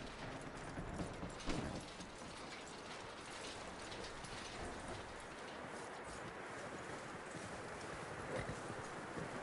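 Steady clip-clop of horse hooves in a video game, with ratcheting, creaking tack noise, dense and continuous at a moderate level.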